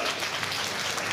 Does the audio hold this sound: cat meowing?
no